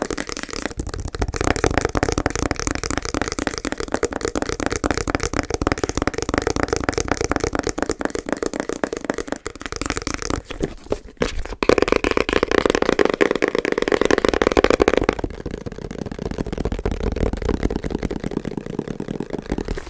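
Fingernails tapping and scratching on a weighty box, a close, dense run of quick rhythmic clicks and scrapes that continues steadily with a brief pause midway.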